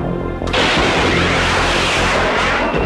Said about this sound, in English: Explosive rocket.